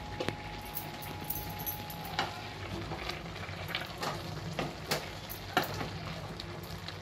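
Rushichi bhaji, a mixed vegetable dish, simmering in a pot on a medium gas flame with the lid lifted, giving soft bubbling and faint sizzling crackles that stay quiet and scattered, with no voices.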